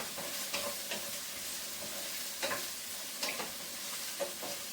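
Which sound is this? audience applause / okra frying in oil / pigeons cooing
okra frying in oil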